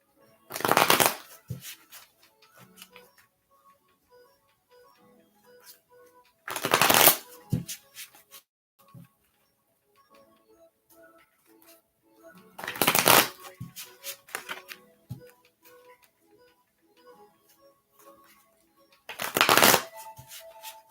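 Four bursts of tarot card shuffling, each a quick riffle, spaced several seconds apart, with faint handling noises and soft clicks in between.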